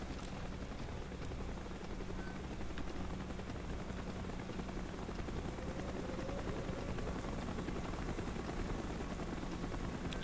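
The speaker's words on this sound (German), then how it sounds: "Helikopter im Anflug!" A helicopter approaches in the video game Call of Duty Black Ops, a steady rotor drone with low thudding beats, continuous and fairly quiet, heard alone with no talk.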